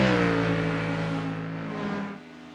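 A GT3 race car engine in the iRacing simulator at Road Atlanta, revving hard with a strong harmonic drone that holds, then drops off sharply near the end as the car passes or lifts off.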